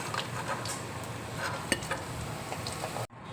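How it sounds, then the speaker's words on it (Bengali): Eggplant snacks frying in hot oil in a wok give a steady, close crackling sizzle with a few sharp pops, cutting off abruptly near the end. "এবার আমি কড়াইয়ে এক এক করে তেলের মধ্যে ছেড়ে দিচ্ছি।"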